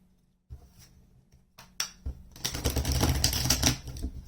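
Playing cards riffle and slap together in a couple of short bursts, then a longer continuous shuffle, close and fairly loud with no talking.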